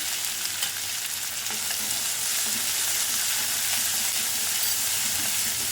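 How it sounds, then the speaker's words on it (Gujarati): Fenugreek leaves frying with ginger-chilli paste, carom seeds and hot oil in a pan, giving a steady, loud, close sizzle and hiss that runs unbroken throughout, with no voices. "મેથીને બરોબર સાતળી લેવાની."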